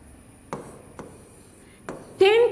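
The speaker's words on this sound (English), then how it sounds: "So I'll write a number." Someone writes a number on a classroom board, giving a few brief, close taps and strokes spaced apart, followed by the start of a voice at the end.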